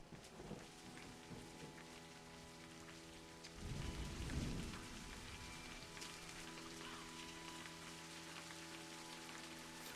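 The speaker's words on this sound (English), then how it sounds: "Well, storm never stopped. Still storming." Steady rain pours in the Scottish-set video game A Highland Song, with a low thunder rumble swelling around the middle of the storm against an ongoing wash of rainfall and a soft tonal backdrop.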